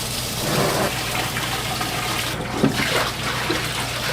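Running water splashes steadily as aquarium decor for a South American cichlid tank is rinsed off, a continuous gushing, trickling wash close by with a few brief louder splashes.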